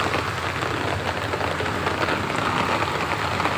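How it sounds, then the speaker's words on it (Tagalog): Steady, dense rain falls at a fishing spot, a constant hiss of drops on surfaces without pause or voices. "Maulan guys."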